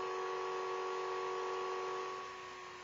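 An early ORBO small electric motor, rated around 6 to 7 watts, hums with a steady whine that fades slightly as it spins down, heard close up and alone.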